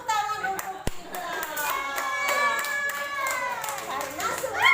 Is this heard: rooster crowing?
no